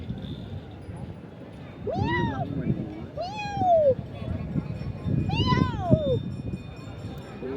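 A kitten meows three times in clear, rising-and-falling cries spaced about a second apart, close by, over a murmur of background voices during a family outing.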